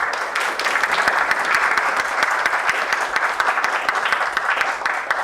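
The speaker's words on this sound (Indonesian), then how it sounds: "bisa dikasih aplaus untuk kelompok 2" A school class applauds a student group after its presentation, steady dense clapping from many hands filling the room at even loudness throughout, with no pauses.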